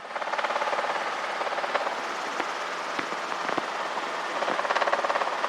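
Steady, loud rotor and engine drone from a helicopter flying a training traffic pattern, recorded from inside, continuous throughout with faint periodic thumps and no speech.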